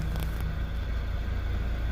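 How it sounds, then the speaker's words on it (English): High-mileage Honda car at 190,000 miles with a worn, nearly failed transmission, giving a steady low rumbling drone with a faint whine running throughout, close and continuous. "But you can hear that transmission just about done."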